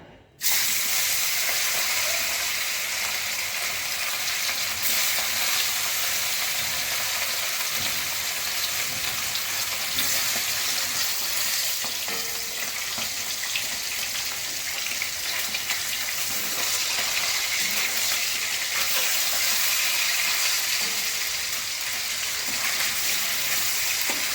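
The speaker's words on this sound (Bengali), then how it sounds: "বেগুন আমার ভাজা হয়ে গেছে এবার আমি মাছ ভেজে নিচ্ছি একটু" Fish frying in a pan in a home kitchen right after eggplant, making a loud, continuous hiss and sizzle of hot oil that starts suddenly and holds steady throughout, with no voices.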